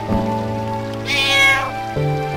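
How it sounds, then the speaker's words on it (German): A cat meows once in a drawn-out, slightly plaintive call over a steady background hum, in the video game Final Fantasy IX. "Ja, die miaut nur."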